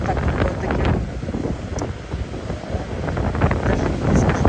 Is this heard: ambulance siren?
no